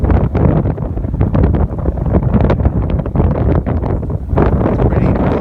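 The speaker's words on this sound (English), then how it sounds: "you can see the wind is blowing pretty strong out here" Strong blizzard wind roars steadily across the microphone outdoors in heavy snow, a loud, continuous buffeting rush with gusty surges throughout.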